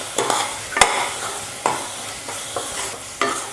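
Masala stirred and fried in a pan for a non-vegetarian curry: a soft, continuous sizzle with sharp spoon scrapes and taps at irregular intervals, close and clear.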